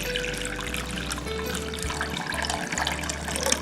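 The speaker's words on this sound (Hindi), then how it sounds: "इसमें हम पानी डालेंगे।" Water is poured into a bowl of lightly crushed mint and basil leaves for a jaggery masala shikanji, a steady close trickle and splash running throughout with a low hum beneath and no talk.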